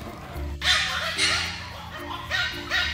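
Bichon Poo puppies and other small-breed puppies in an Atlanta puppy store let out a series of sharp, high-pitched yips, arriving in short bursts over a steady indoor background.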